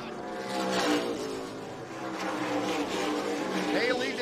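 NASCAR K&N Pro Series West race cars roar around the oval at Colorado National Speedway, engines droning and revving as they pass through the turns late in the race, under continuous commentary.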